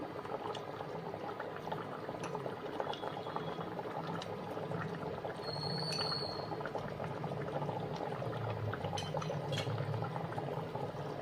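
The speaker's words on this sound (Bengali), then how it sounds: "এই অবস্থায় আমি হাফ কাপ মতো দুধ দিয়ে দিচ্ছি।" Milk poured into a simmering shahi paneer gravy in a pan, a close, steady bubbling and sizzling that keeps going for several seconds with faint liquid splashes.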